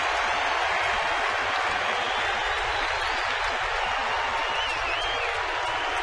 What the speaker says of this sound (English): this is the only time Bruce Bochy gets a cheer